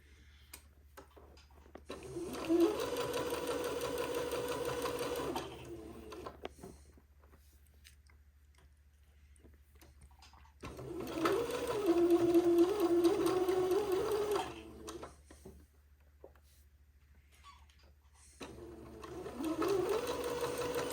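A sewing machine stitches lace beside an entredeux ladder on a Christmas dress, running in three sustained bursts of rapid, even whirring with quiet pauses between, close and loud with no speech.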